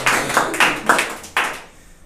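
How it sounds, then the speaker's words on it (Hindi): A church congregation at a Sunday service in Jhalod, Gujarat claps in four bursts of hand claps, fairly close and sharp, then the sound fades away to quiet. "तो क्यों ना फिर से एक बार ताली बजाए मैसेज के"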